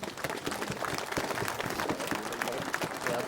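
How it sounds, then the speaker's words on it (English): A crowd applauds a speaker who advises farmers at a farmer protest march in York, a dense patter of clapping and cheering throughout, with voices mixed in. "give him a round of applause"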